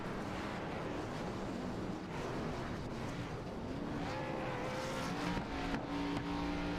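Race cars lapping Chicagoland in the simulated eSPEED SPORT 125, engine drone steady and loud with rising whine of passing cars near the end, continuous without pause.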